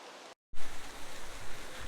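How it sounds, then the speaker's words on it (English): Steady rain patters down through a Wisconsin woodland during a bowhunt, a broad even hiss that holds alone after a brief dropout near the start. "And here comes the rain."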